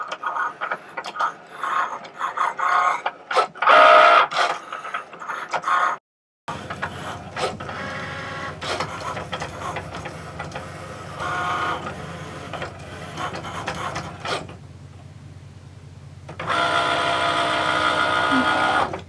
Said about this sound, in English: it's going to start cutting. We're just using the fine point blade today